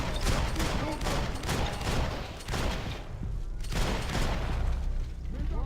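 Rapid gunfire in Max Payne 3, with bursts of close, loud shots in dense clusters, a brief lull, then more sustained firing, with some talk mixed in.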